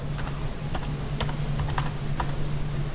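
A computer keyboard clatters with a quick run of separate keystrokes while a name is typed in, close and fairly quiet over a steady low hum, with no talking.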